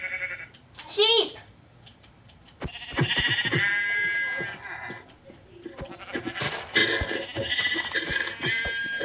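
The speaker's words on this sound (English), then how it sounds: "Sheep." Sheep bleat in a wavering, quavering cry near the start, followed by busy bleating and scraping noises while people talk over the scene.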